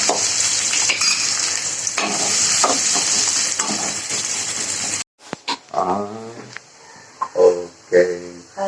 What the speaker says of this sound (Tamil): பீட்ரூட்டுக்கு வெங்காயம் நல்லா வதங்கிடுச்சு